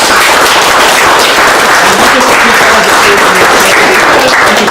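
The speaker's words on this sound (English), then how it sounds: "You can give her a nice round of applause." An audience at a magicians' club show gives steady, loud applause, a dense wash of many hands clapping at once with no break.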